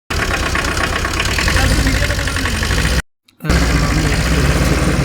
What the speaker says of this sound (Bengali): একটু সময় সেল গ্রাউন্ড নিয়ে ভ্যানটা স্টার্ট নিয়ে নিয়েছে।